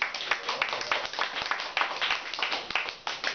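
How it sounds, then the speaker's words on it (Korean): Audience at a lecture clapping together, a brief patter of irregular claps from a small group, moderately near and steady before trailing off. "전체적으로 박수"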